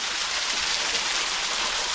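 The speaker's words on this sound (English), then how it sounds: "Tiny little waterfall" A tiny waterfall at Peachtree Rock Heritage Preserve in Gaston, South Carolina splashes in a continuous, close, broadband rush of falling water with no other sounds.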